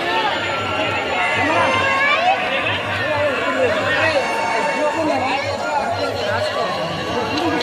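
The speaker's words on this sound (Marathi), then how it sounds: "एवढी सारी गर्दी खूप दिवसांनी पाहायला भेटली" Dense, steady crowd babble fills a Nag Panchami temple fair at Nagbhardi, Kandhar, Nanded, many voices overlapping continuously at close range with no pause.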